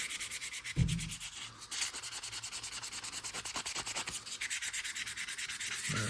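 A horn button is hand sanded with 600 grit sandpaper, giving rapid rhythmic back-and-forth rubbing strokes up close, with a brief pause and a few bumps of handling between bursts and no speech.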